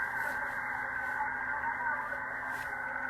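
Yaesu FTdx10 radio receiver on the lower amateur bands with no attenuation or IPO engaged, giving a continuous dense front-end noise hash, steady and moderately loud throughout.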